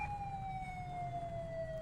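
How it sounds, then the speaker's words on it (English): A police car siren in the FiveM video game holds a steady wailing tone that slowly drifts downward, sounding at moderate level over low rumbling background noise, with no talk. "Siren check."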